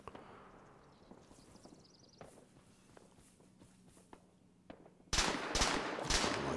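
A .50 cal machine gun opens up in Arma 3 during an Invade & Annex infantry fight, a loud sustained burst of heavy fire starting near the end after quieter footsteps and scattered distant shots.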